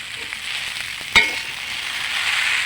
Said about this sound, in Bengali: এখন আমি এর মধ্যে বাঁধাকপিগুলো দিয়ে দেবো।